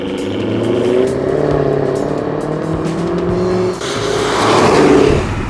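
Jaguar F-Type R with a 5-litre V8 revs hard, its loud engine note rising and falling steadily with a couple of surges, close by and with no one talking.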